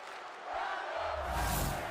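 Arena crowd in WWE 2K23 swelling into a broad roar of cheering for a Smackdown Women's Championship match, quieter at first then building loud and sustained with a low rumble beneath.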